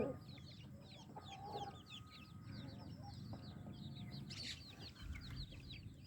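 Hens and chicks in a backyard poultry coop, clucking and chirping softly and steadily throughout, with rustling and low background noise beneath.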